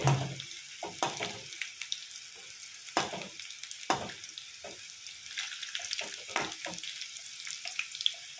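Okra fries in hot oil, a steady crackling sizzle broken by sharp bursts of spatter and the scrape of stirring, with no voices over the cooking.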